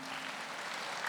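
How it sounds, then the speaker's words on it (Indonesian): A congregation at a Batak church service and family celebration breaks into a brief burst of dense clapping that fills the hall evenly. "Kita tepuk tangan amang danina."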